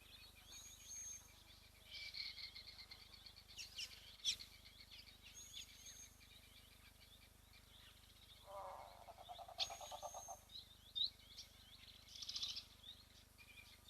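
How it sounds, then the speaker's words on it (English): Small birds call at a wild waterhole in scattered bursts of high chirps and twittering, fairly faint and at middle distance, with quiet pauses between bursts and no talk. "this is another great spot where we see a lot of little birds around"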